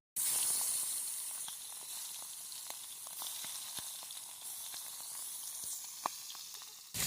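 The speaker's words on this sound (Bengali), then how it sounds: "আমি একে একে মুড়োগুলো ভেজে নেব" Katla fish heads fry in hot mustard oil in a pan, a close, continuous hissing sizzle with scattered sharp crackles and pops throughout.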